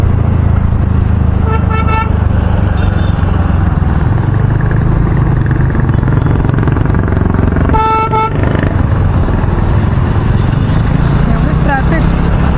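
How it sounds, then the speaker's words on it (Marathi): Dense road traffic in Ghansoli, a steady loud roar of cars and motorcycles with several car horns tooting in short bursts, one cluster clearly prominent midway, and no talk over it. "एवढी ट्रॅफिक"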